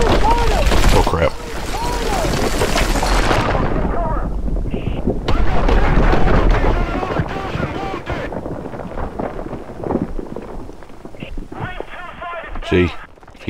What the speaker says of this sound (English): if you didn't die from the explosion, you definitely would have died from the fumes